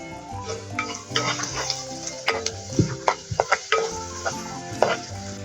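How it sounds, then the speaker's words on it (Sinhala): Green chilies and salt sizzle and crackle in hot oil, a close, steady frying hiss with sharp pops and spatters scattered throughout, occasional stirring clinks breaking through. "මේ විදිහට හොඳට තෙලේ ටෙම්පරාදු කරගන්න මේ ටික."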